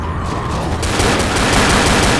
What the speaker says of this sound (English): you gotta go machine gun pistol like this